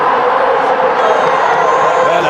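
A packed stadium crowd of close to 120,000 supporters roars and cheers in a steady, dense wall of noise, loud and continuous throughout.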